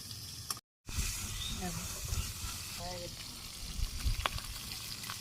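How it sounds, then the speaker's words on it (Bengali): Fish frying in a pan in a Bangladeshi village kitchen, a soft continuous sizzle and hiss broken by a brief dropout, with faint voices and household sounds in the background. "মাছ ভাজি হয়ে গেছে গা নামিয়ে নে"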